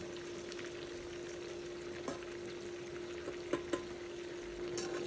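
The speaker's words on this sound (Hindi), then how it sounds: "हमें बैंगनों को डीप फ्राई करना है" Brinjal (eggplant) pieces deep frying in oil, a continuous soft bubbling sizzle with a few brief louder crackles and pops, steady and fairly quiet with no voices.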